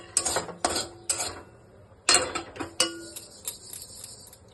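Dry salt stirred in a hot pan while being roasted for Darjeeling Dalle chilli pickle: several sharp scraping bursts with small metallic clinks, separated by quiet gaps.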